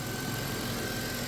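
The engine of a 2000 Chrysler Grand Voyager SE, off the road for a long time, runs with a steady, even idle hum and a faint high whine, heard nearby with no talk.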